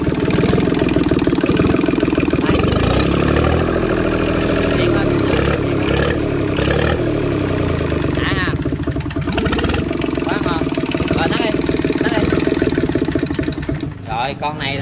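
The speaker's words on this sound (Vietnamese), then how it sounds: "mời cả nhà mình nghe tiếng máy nổ của con máy này" A small diesel engine, a Yanmar 3T68 or Kubota 855 rated about 19 hp, runs steadily near at a constant idle, loud and continuous throughout, with a person talking over it.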